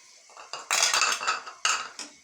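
Metal spoon scraping and clinking against a pan as minced meat (keema) roasts with peas, a few sharp bursts of stirring close up, with no voices.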